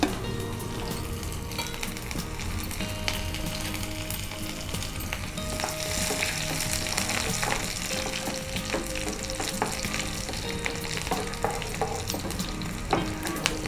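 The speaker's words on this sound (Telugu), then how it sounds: "ఆయిల్ వేడెక్కింది కదా, ఇప్పుడు ఆవాలు, జీలకర్ర, మినపప్పు, వెల్లుల్లి రెబ్బలు," Mustard seeds, cumin, urad dal, garlic cloves and two dried red chilies sizzle and crackle steadily in hot oil in a home kitchen, close and continuous with occasional stirring and light popping, no voices.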